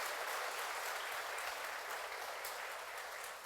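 A church congregation applauds during a sermon, a steady wash of many hands clapping together, fairly distant and soft, with no talking over it.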